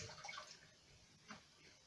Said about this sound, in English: Now I'm wringing out my brush.